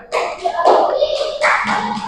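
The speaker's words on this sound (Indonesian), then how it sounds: "Ya, tepuk tangan." Children clapping hands together in a classroom, a loud, close burst of rhythmic claps mixed with young voices chattering over it.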